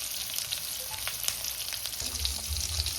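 Masala mackerel fries over a low gas flame with curry leaves and garlic, giving a constant close-up sizzle with scattered crackles and pops and no voices.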